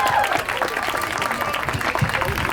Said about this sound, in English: give yourself a round of applause for being so